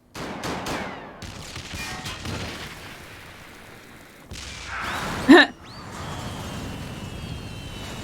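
Gunfire in the Final Fantasy XIV video game, a burst of rapid shots followed by a sustained rumbling barrage and one sharp loud crack, ending in a lingering, noisy tail.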